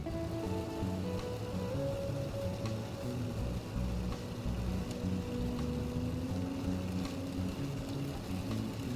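Heavy rain with strong wind, a steady dense roar of downpour and gusts that stays loud and unbroken throughout, with no voices.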